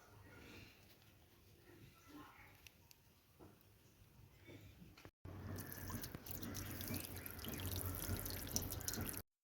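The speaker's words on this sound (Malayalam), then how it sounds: "അപ്പോൾ ഇതിൽ അത്യാവശ്യം വെള്ളം വരുന്നുണ്ട്." A garden hose runs water into a village fish pond: a steady, fairly loud rush of flowing water fills the second half, after quieter dripping and soft trickling, with a few faint voices early on.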